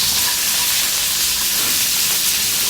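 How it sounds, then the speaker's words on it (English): Green beans dry frying over medium heat in a hot pan with aromatic garlic, giving a steady broadband hiss and sizzle that holds evenly throughout with no talking. "throw in the beans. And dry fry over medium heat."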